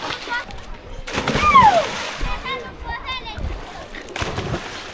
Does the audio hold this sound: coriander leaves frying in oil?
no